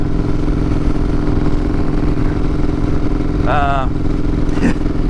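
A custom motorcycle's engine runs steadily and loudly while being ridden on a commute, with a constant droning rumble throughout. A short voice rises above the engine noise near the end.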